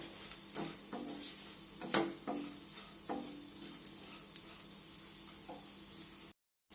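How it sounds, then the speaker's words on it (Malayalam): Roasted prawns being stirred in a pan over a steady sizzle, with several distinct scraping strokes of the spoon spread through the clip and a brief dropout near the end; no talking. "ഇനി വീണ്ടും ഇത് നല്ലതുപോലെ ഒന്ന് മിക്സ് ചെയ്യണം"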